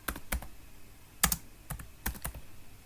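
Code being typed on a computer keyboard, a few quick clusters of soft, close key clicks with short pauses between them.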